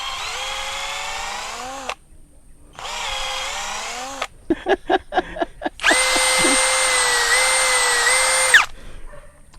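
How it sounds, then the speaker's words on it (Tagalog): Power drill boring into an agarwood tree trunk, loud whining bursts that start and stop, a run of rapid stuttering pulses, then a long sustained high drilling whine before it cuts out. "ganito lang kahaba yung drill mo"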